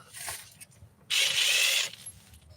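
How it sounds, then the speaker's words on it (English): Metal mechanical clatter as the crankshaft pulley comes off a 2005 Hyundai Sonata engine during a timing belt job: one loud, dense, ratchety burst lasting under a second, with faint clicks before and after. "So let's remove the pulley."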